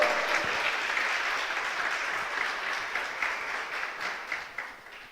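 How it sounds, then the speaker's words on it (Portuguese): A church congregation applauds during a sermon, a steady wash of many hands clapping that fades gradually and evenly, with no talk over it. "Você pode aplaudir o Senhor?"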